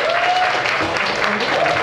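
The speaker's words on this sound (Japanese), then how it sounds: "拍手。" Audience applause at a live Kamattechan rock show in 2016, a dense, steady clapping wash from a crowd filling the room for about two seconds, with a faint whistle or cheer riding over it.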